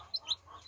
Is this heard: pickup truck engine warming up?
no